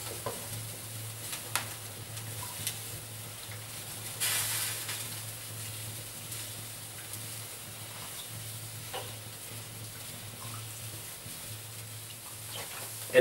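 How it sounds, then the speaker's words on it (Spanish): A pot of mandrajos stew from Almería comes up to a boil. It gives a faint, steady bubbling hiss with a few soft clicks throughout, and no one speaks. "como ya está arrancando a hervir"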